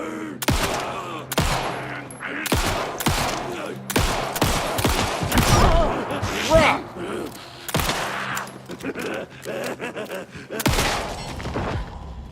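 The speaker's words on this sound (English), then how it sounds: "we've got a lot of shots with the shotgun, actually" Shotgun blasts in the video game Alan Wake 2, a dozen or so loud, sharp booms fired at irregular intervals, some in quick pairs, each with a short decaying tail.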